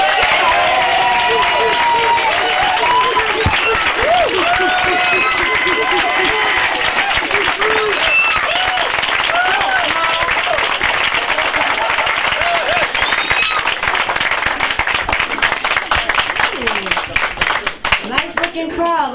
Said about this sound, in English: Put your hands together to a wonderful comedian